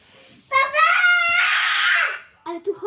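A young child lets out a loud, sustained scream lasting over a second, then short vocal bursts and babble follow close to the microphone.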